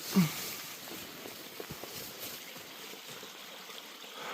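A small creek flows through the woods with a faint, continuous trickling hiss, joined by a few soft footsteps or knocks nearby.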